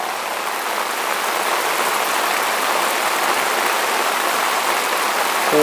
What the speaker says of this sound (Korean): 비가 어마어마하게 내리고 있어요.